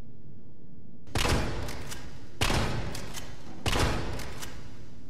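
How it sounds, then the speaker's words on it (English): Three loud, close shotgun blasts fired at roughly even intervals in Resident Evil 3 Remake, the gun fitted with a shell holder, each sharp boom followed by a brief mechanical rattle. "Now let's test the shotgun with just the shell holder attached to it."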